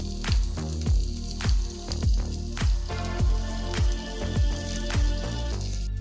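A pizza grilled cheese sandwich sizzles steadily in a frying pan. Repeated soft squishing presses come at a roughly regular rhythm over the constant hiss, close and fairly loud.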